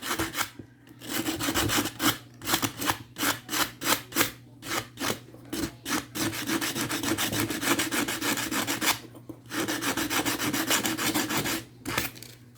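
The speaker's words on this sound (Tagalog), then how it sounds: "Papel de liha." Sandpaper rubs back and forth in quick, steady rasping strokes, close and fairly loud, with brief pauses between runs, while preparing for soldering LEDs.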